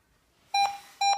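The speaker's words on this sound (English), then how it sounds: "There will be two loud beeps" Two loud electronic beeps from an ASUS C300 Chromebook starting up, the first sustained for about half a second and the second following shortly after, with quiet background between them.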